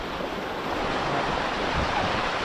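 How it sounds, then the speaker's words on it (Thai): A Mekong River waterfall roars as a steady, loud, broadband wash of rushing water close by, continuous throughout with no voices. "มันเป็นน้ำตกที่แบบไหลขึ้นไหลลงไปนะครับ"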